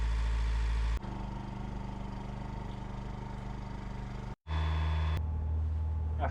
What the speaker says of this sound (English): I have to run the engine for half an hour